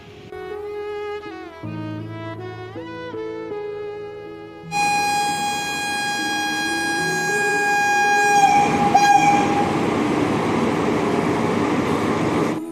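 A train sounds a long, steady horn over rumbling carriages, following a stretch of varying tonal notes; loud and continuous throughout.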